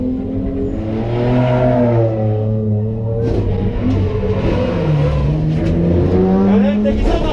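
Rallycross car at a season-opening round at Raassilla, engine note sweeping up and down under steady commentary as the car loses control, with continuous loud motor drone throughout.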